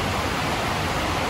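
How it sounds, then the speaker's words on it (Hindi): Heavy monsoon rain in Meghalaya pours steadily outside a hotel window, a dense, unbroken wash of loud broadband hiss with no pauses. "ये बारिश का पानी"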